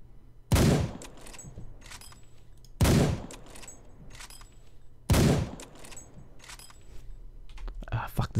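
Three loud gunshots from a gun in the video game Arma 3, spaced about two seconds apart, each ringing out sharply and decaying, with a soft steady background hum and some rustling toward the end.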